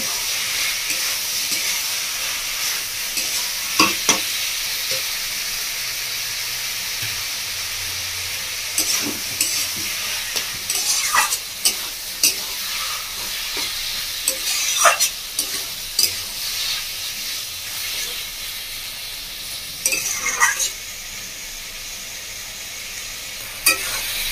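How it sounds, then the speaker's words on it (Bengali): Boiled vegetables being sautéed in a pan for Bengali-style khichuri, a steady close sizzle with a spatula scraping and stirring in clusters of strokes throughout, no talking. "সবজিটাকে ভালো করে কষিয়ে নেব"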